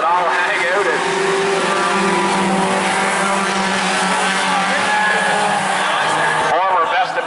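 Race cars in an Outlaw heat roar side by side on the track, their engines loud and continuous with rising and falling pitch as they pass, while a commentator talks over them.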